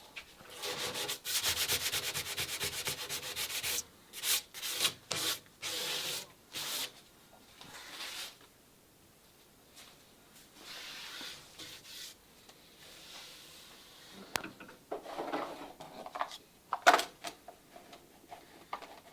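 A light hand scraper working along a wooden chamfer on a boat console, giving bursts of close, dry rasping strokes with short pauses between, no talk.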